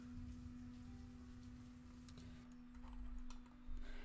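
Rain falls in the medieval city-building game Banished as a faint, steady hiss of soft patter over a constant low hum, with no talk.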